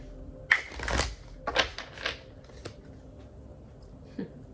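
Samhain-themed oracle cards with a Halloween motif are shuffled in a few close, papery bursts of slapping and rustling, loudest at the start and then tapering to quieter shuffles.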